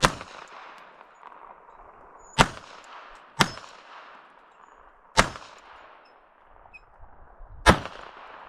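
Five sharp pistol shots from a Beretta Tomcat ring out close by at irregular intervals, each a loud crack followed by a short decaying echo, with quiet gaps between them.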